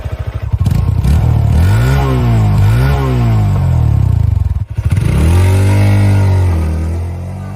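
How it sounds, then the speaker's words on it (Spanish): Up close, the engine of a Suzuki Haojue DL150 motorcycle runs loudly, revving up and dropping back twice, with a brief dip between the revs. "Y ahora escuchemos el motor de la DL150 que no tendría mucha diferencia con la 160."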